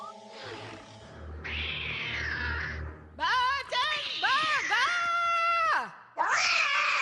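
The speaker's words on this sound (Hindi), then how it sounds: "ओह, माफ करना मिस्टर कैट, मैं तुम्हारा खाना लाना भूल गई थी।" A cartoon cat gives several drawn-out, pitch-bending meows and yowls that are loud and close, coming after a stretch of low music or voice, with short gaps between the cries.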